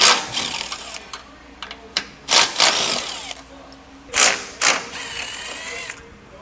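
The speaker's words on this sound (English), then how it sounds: "We're gonna have 2 bolts on both sides we'll have to remove with a 13mm socket." Bolts come off a 2026 Ford Escape with a 13mm socket on a power tool, heard as close mechanical whirring and ratcheting in several sharp loud bursts with quieter pauses between them.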